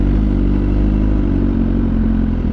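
A BMW S1000RR motorcycle fitted with an SC Project exhaust, a loud, close, steady engine rumble with a throaty, slightly rattling exhaust note that holds an even pitch throughout, with no voices.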